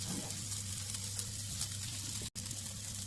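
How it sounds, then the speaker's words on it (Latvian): Meat sizzling in a pan with onions and garlic, a soft, continuous frying crackle with a low hum beneath and one brief dropout near the end. "Apcepam gaļu ar sīpoliņiem, ķiplociņiem."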